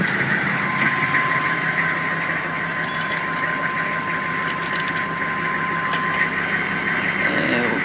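A 1998 Holden Suburban 2500 4x4 truck engine idles steadily at close range, a constant low drone with a faint high whine running through it and no change in pace.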